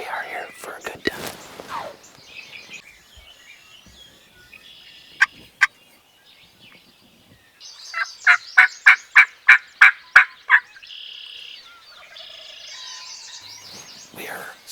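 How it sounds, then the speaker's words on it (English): A wild turkey in the Michigan spring woods gobbles in the distance, then answers with a rapid run of rattling gobble notes, while hunters whisper close by. "He started gobbling on his own."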